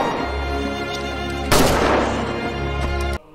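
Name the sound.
gunshot in a film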